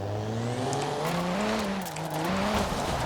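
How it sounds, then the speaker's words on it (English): A stock 2016 Alfa Romeo Giulia Quadrifoglio drifting in Forza Horizon 4, its engine holding a steady wavering drone as the tires squeal continuously through the slide, close and loud with no talking. "will it drift? I think so."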